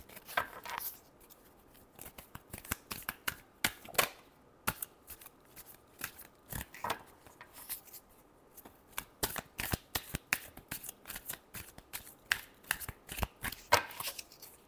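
Tarot cards are shuffled by hand, close and fairly quiet, in a long run of quick riffling slaps and flicks with an irregular rhythm and little talking.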